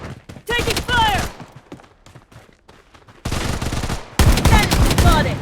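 Gunfire in the Blood Strike shooter game, loud bursts of rapid shots in two stretches separated by a quieter gap, with game voice callouts and other effects mixed in.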